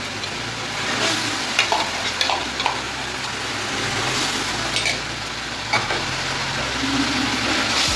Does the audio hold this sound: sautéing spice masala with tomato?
yes